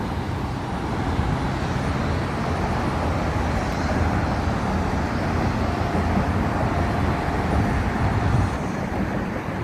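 An M15 city bus passes along a New York street, its steady engine rumble and road noise filling the scene continuously at close range amid general traffic din, with no voices.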